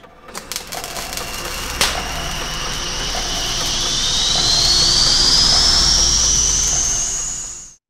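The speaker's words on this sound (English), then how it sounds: "And this is the space rocket." A space rocket sound effect builds as a steady roaring whoosh with a rising whistle that climbs over several seconds before cutting off abruptly, loud and alone.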